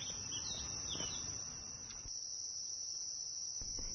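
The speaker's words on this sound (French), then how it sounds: "On peut entendre le gazouillis des oiseaux" Faint, distant birds chirp in a mangrove on Hainan Island over a soft outdoor hum of insects, quiet and continuous.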